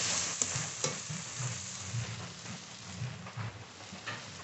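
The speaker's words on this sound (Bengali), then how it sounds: "মশলা খুব ভালো করে কষিয়ে নিয়েছি, এবার জল দিয়ে দেবো।" Water goes into a well-fried spice masala for a sea crab curry, and the pan answers with a loud hissing sizzle and bubbling clatter that slowly settles, with a few stirring knocks and no voices.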